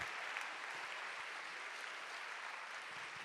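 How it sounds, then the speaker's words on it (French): Audience applause at the Veuve Clicquot Bold Woman Award ceremony in France, a dense, even, continuous patter of many hands clapping at moderate distance and fairly quiet level. "Je pense qu'on peut vraiment les applaudir."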